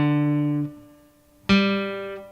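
Two guitar strings are plucked one at a time, each note ringing clearly and fading before the next pluck rings out.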